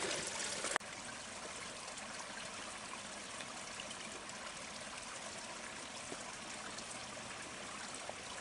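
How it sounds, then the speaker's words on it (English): Spring water near the head of a creek on a hiking trail trickles in a steady, soft, continuous babble, heard alone with no voices. "here is the end of the spring"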